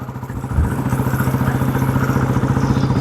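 An old Royal Enfield motorcycle engine thumps along in a steady, loud, regular low beat, close by and alone without voices.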